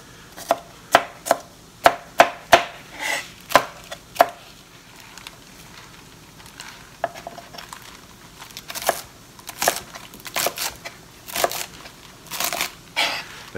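A knife chops bok choy stems on a cutting board in a quick run of crisp, sharp strikes, then a pause before looser, irregular cuts resume, close and clear with no voices.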